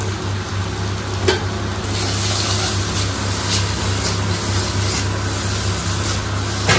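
Maggi masala spice mix sautéing with spices in a hot pan, a steady close sizzle with soft stirring scrapes and a brief clink near the start, with no voices.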